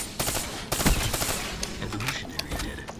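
Gunfire in Call of Duty Black Ops 3, a quick cluster of loud shots and a burst of rapid fire, followed by fainter game noise.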